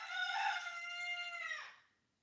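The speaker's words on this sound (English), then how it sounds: "but they all crow, each rooster" A rooster crows once, a long clear harmonic call that rises, holds and trails off over about two seconds, close and alone against near silence.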